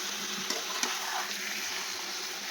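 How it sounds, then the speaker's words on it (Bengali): Curry with tomatoes and spices being stirred in a pan, a steady soft sizzle with a couple of faint scraping clicks from the spoon, fairly quiet. "নাড়িয়ে তো দিই"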